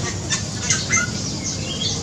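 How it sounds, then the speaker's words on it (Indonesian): A Bali myna in an aviary gives a run of sharp, high squawks in quick succession over a steady hiss, close and fairly loud. "Ini burung jalak Bali ini super bawel dan berisik."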